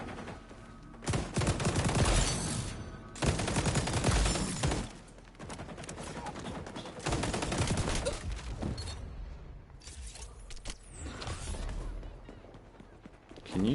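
Gunfire in the video game xDefiant, heard as repeated loud bursts of automatic fire separated by brief pauses, with quieter stretches of game noise between volleys.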